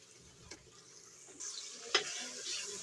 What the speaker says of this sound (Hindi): इसको भी अच्छी तरह भूनेंगे।